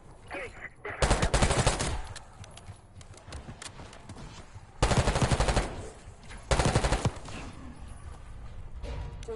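Gunfire during a Black Ops 6 campaign mission. Three loud bursts of rapid automatic fire are separated by quieter stretches with scattered single shots and clatter, all fairly close.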